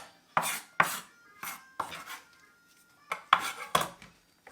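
Thinly sliced lettuce for a Thai beef salad is dropped into a colander, giving several sharp clattering and rustling impacts in quick bursts, close by with no talk.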